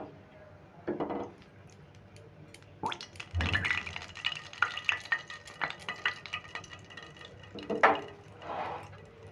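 A spoon stirs hot oil in a pan over a medium gas flame, giving soft scraping strokes and faint sizzling in bursts, with a few clinks against the metal.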